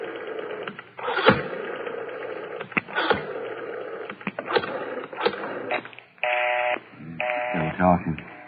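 Telephone dial tones and beeps from an old radio drama as a man tries to reach his wife, steady tonal bursts sounding in the last few seconds after a stretch of mixed noise and talk.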